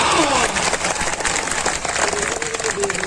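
A crowd applauding at a farmers' sit-in protest, with loud continuous clapping from many people filling the whole short stretch at close range.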